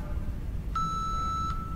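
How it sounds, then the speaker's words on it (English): A workout interval timer sounds one steady electronic beep lasting under a second, rising clearly above a constant low background hum. "And there's our timer."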